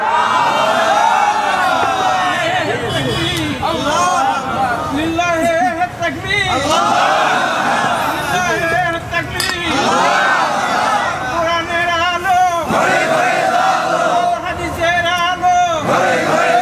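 A large crowd at an Islamic religious gathering in Bangladesh raises loud, continuous collective chanting and cheering, rising in repeated waves that fill the whole span without pause.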